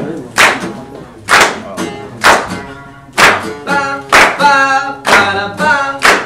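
Audience clapping and snapping along to a live song at a Greater Good show: steady rhythmic claps in a loose beat, with a sung voice running over the top throughout.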